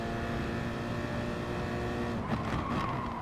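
A Group 3 Citroen race car in Gran Turismo Sport drones steadily at high revs, its engine holding a dense harmonic roar that shifts pitch near the end, with a faint hint of tire squeal, close and continuous with no voices.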